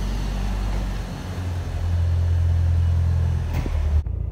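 A Mitsubishi Evo IV's engine rumbles with a low, steady drone that swells as the car approaches and passes nearby, then cuts off sharply at the end.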